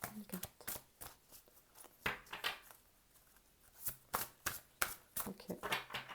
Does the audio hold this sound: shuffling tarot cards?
yes